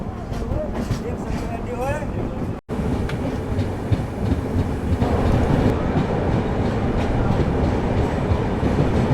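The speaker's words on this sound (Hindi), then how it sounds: "ठीक 2 मिनट रुकने के बाद हम डिपार्ट कर रहे हैं गांधीनगर जयपुर रेलवे स्टेशन से राजस्थान के।" The 12016 Ajmer–New Delhi Shatabdi Express pulls out of Gandhinagar Jaipur station in Rajasthan, heard from on board as a loud, steady rumble with clattering wheels that builds after a brief cut, and a voice talks over it.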